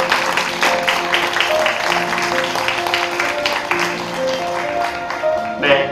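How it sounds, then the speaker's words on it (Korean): Wedding guests in a Korean ceremony hall applaud the bride and groom, a steady dense patter of clapping running throughout, with a voice speaking over it. "큰 박수 부탁드리겠습니다."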